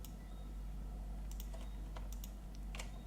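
Keys on a computer keyboard are pressed for shortcuts while editing, a handful of faint, crisp clicks spaced irregularly over a low steady hum.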